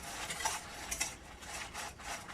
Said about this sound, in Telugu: ఈ విధంగా చిన్న మంటలోనే వేయించుకోండి.